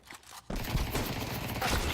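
Gunfire in an online multiplayer video game: after a near-silent half second, a dense, continuous burst of rapid automatic shots fills the rest of the short clip, loud and unbroken.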